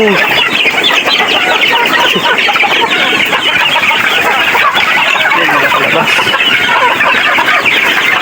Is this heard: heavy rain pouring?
no